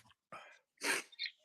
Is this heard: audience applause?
no